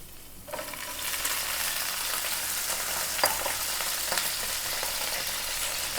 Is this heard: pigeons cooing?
no